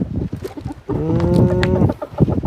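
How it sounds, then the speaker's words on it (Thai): Fighting cocks on a farm cluck and squawk loudly up close, with a drawn-out harmonic call in the middle and scattered rustling around it. "มีแต่ไก่ตีเนาะไก่โอ้ย"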